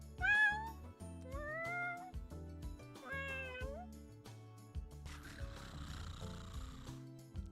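A person mimics a cat with three or four drawn-out, rising and falling meows in quick succession, over soft background music, then a breathy hiss.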